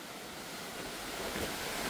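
A swollen river rushes like sea waves during a storm, a broad steady roar of churning water with wind noise buffeting the microphone, loud and unbroken.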